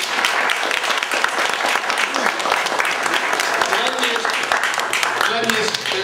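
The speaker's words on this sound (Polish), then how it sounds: "Oklaski dla Glena." Audience applauding steadily for guest Glenn Jørgensen at a Polish meeting, dense clapping filling the room throughout without a break.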